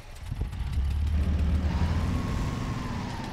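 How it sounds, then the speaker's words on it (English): An E7310 truck engine in the SpinTires video game cranks with a few clunks and then catches into a loud, steady idle rumble that settles and slowly fades slightly. "So now, we are going to change truck to the E7310. We can start the engine."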